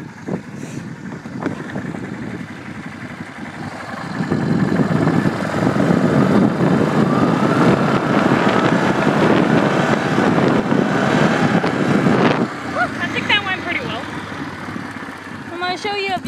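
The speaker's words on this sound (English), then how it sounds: "I'm gonna jump it with this here four-wheeler." A Toyota four-wheel-drive four-wheeler ATV engine revs up and holds a loud, rough drone under heavy wind buffeting while riding toward and jumping a silage pile, then eases off, with a voice talking over it at the start and end.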